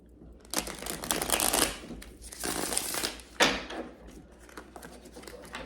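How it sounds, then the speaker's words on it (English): Tarot cards are shuffled close by in several riffling, papery bursts, quiet and crisp, separated by brief pauses. "I'm gonna shuffle"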